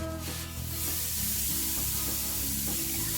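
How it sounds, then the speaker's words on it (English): Lamb sizzles in a hot skillet for a stir fry, a dense steady crackle and hiss filling the clip without any talking. "We're going to listen for that good sizzle."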